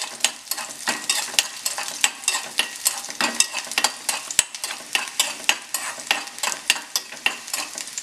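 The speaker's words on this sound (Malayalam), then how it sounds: "ഇനി ഇതിലേക്ക് നീളത്തിലരിഞ്ഞ ഇഞ്ചി, വെളുത്തുള്ളി, ഇതൊന്ന് ചെറുതായിട്ട് മൂപ്പിച്ച് കൊടുക്കാം" Sliced ginger and garlic sautéing in a little oil, a soft sizzle under repeated sharp clicks and scrapes of a spoon stirring the pan, quiet and close with no speech.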